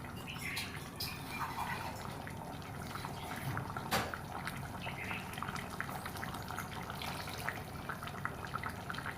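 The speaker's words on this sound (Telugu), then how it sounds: "అదే జార్లో కొద్దిగా వాటర్ వేసుకోండి" Water poured from a mixer jar into a simmering country chicken curry, heard as a steady, fairly quiet liquid splash and trickle with bubbling, without any talk.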